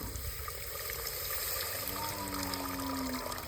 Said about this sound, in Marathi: आता पाणी वतते.